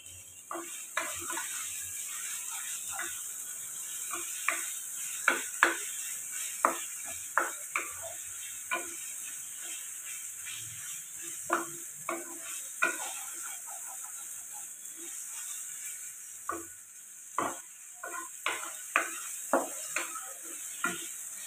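Chopped onions fry in a pan with a faint background sizzle while a spoon repeatedly scrapes and taps the metal in uneven bursts.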